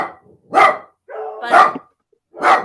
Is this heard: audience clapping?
no